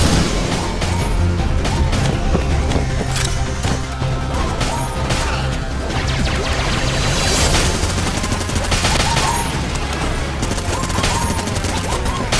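Dense, continuous video game gunfire from the Enter the Gungeon trailer, rapid overlapping shots, crashes and booms layered over a loud soundtrack with no pauses.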